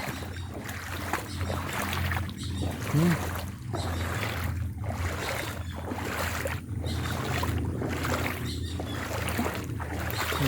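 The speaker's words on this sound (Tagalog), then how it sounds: "Pinasok ng tubig yung ating manggahan." Floodwater in a mango orchard sloshes in a steady, regular rhythm of splashes as someone wades through, with low wind and a brief murmured voice.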